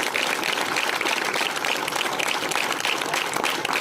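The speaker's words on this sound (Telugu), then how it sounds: "నిజంగా కూడా గ్రౌండ్ ఇష్టపడే వాళ్ళు ఉంటే ఒక నిమిషం చప్పట్లు కొట్టాలా" Dense, steady applause from a crowd of athletes at a meeting in the Makthal mini stadium, loud and continuous from start to finish with no let-up.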